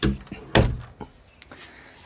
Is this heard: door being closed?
yes